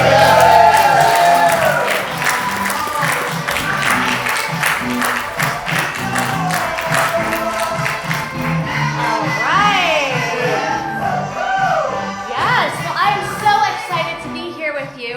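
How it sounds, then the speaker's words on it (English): Applause, cheers and whoops from the crowd at a live Valentine's variety show, loud and dense at first, then easing into scattered clapping and shouts. "please give a big round of applause for my friends and yours"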